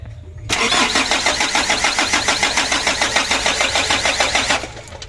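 A rebuilt Mitsubishi 4D34 diesel engine cranked on its starter motor, a loud, close, rhythmic churning that runs for about four seconds without firing before it stops.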